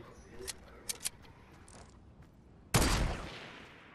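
Gunfire in a battle royale video game: a few sharp distant shots early on, then one loud close blast with a lingering tail.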